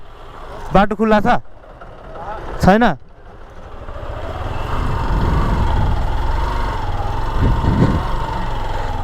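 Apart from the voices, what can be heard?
tractor engine approaching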